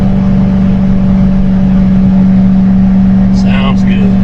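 A 2006 Ford Roush Mustang GT engine hums at a steady low drone from inside the car at cruising speed, with a brief voice near the end.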